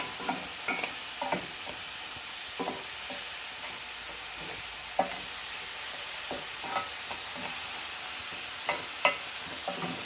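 Mushrooms for chicken and shrimp fajitas cooking in a pan, giving a steady soft sizzle broken by scattered stirring scrapes and clinks, close and moderately quiet with no talking.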